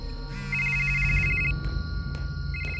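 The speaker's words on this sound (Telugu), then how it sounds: "ఫోన్ మోగుతుంది" At night a telephone rings with repeated electronic beeping tones, clear and fairly close, over a low background hum with no talk.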